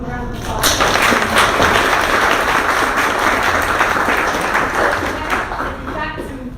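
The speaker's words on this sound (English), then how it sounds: "So, let's give them a round of applause." A room full of people gives a sustained round of applause, dense close clapping that swells quickly, holds for several seconds and then thins out, with voices mixed in near the end.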